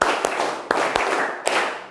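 A group of students clap in a classroom concentration clapping game: a few sharp, fairly loud claps spaced unevenly, with a roomy background hum and no talk.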